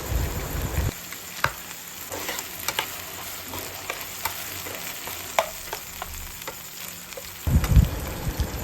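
Chicken fries with soy sauce as it is stirred in, a steady sizzle broken by scattered scrapes and taps of the utensil, with louder bursts of bubbling at the start and end, near and without talk.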